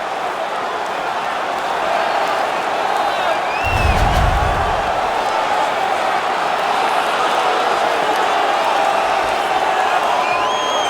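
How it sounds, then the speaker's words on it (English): Hockey arena crowd in the NHL 19 video game during a Colorado Avalanche versus Los Angeles Kings match, a steady roar of the home crowd with scattered cheers and whoops, punctuated by a brief low thump near the middle. "The crowd is all over them right now."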